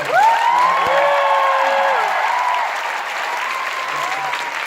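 A university concert crowd at Gyeongsang National University's 70th-anniversary festival in Gaecheok Hall applauds loudly and steadily, with rising whoops and cheering voices over the clapping.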